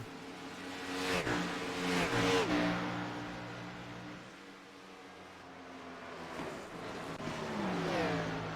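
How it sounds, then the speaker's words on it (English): A racing car does a burnout in a sim racing video game at Homestead Miami, its engine surging and revving in repeated sweeps at moderate volume, rising and falling across the clip. "I can hear someone somewhere doing a burnout."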